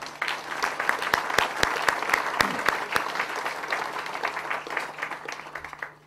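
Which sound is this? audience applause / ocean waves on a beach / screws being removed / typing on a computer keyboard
audience applause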